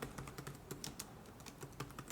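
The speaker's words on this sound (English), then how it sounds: "just typing is bothering me" Rapid, irregular keystrokes on a computer keyboard, clicking close and fairly quiet with no voices.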